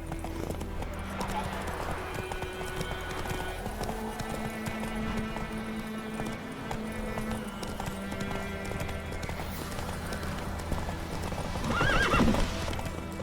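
Roach, a horse in The Witcher 3 video game, gallops with rapid, rhythmic clip-clopping hooves under steady music, ending in a short whinny near the end.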